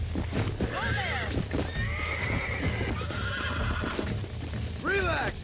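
A horse in Red Dead Redemption neighs and whinnies several times while hooves clop beneath, the shrill calls rising near the start and again at the end, with game voices speaking.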